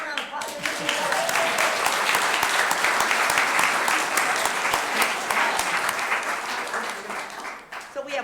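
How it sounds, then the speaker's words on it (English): An audience at a school board meeting breaks into a sustained round of applause, dense clapping held steady for several seconds before tapering slightly at the end. "give her a round of applause."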